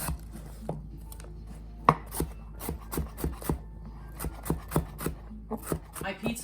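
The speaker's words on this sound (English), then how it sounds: "The next thing I want to cut up is my red onion." A knife chops red onion on a board, a run of sharp, evenly spaced taps that start sparse and quicken into a steady rhythm, close and clear, with a voice briefly heard.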